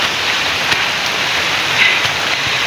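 Steady rain pours outdoors on a hillside during a fishing outing, a loud, dense hiss of drops on leaves and ground with a few sharper splatters, and no voices.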